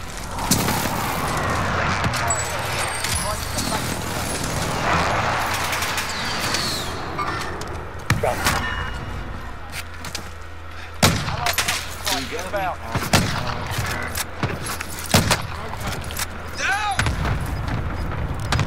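Gunfire and airstrike explosions from an enemy precision airstrike in Call of Duty Warzone (Cold War Rebirth), with repeated broadband blasts and bursts over constant battle noise, and players talking over the action.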